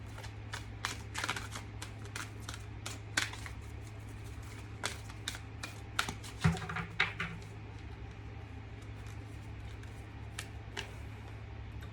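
Oracle cards shuffled and dealt onto a surface, with quiet repeated riffling flicks and soft card slaps, close and faint over a low steady hum.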